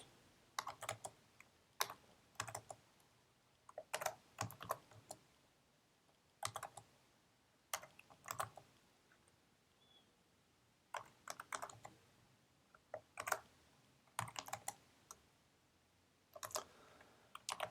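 Bursts of typing on a computer keyboard while entering terminal commands, quick clusters of key clicks separated by short pauses, close and fairly quiet, with no talking.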